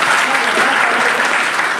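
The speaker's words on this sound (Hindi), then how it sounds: "तो जोरदार ताली।" Loud, dense clapping from a room of students and villagers at a coaching class celebration, a brief steady burst of applause with voices mixed in.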